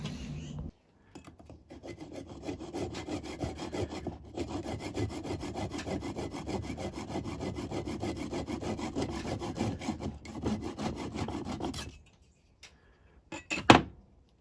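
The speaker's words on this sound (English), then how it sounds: "then I'll come back and cut the 3/16 dowel at this point here for the barrel" Hand saw cutting through a 3/16 inch wooden dowel, a close, steady rasping back-and-forth stroke that runs for about eleven seconds, then stops with a light knock at the end.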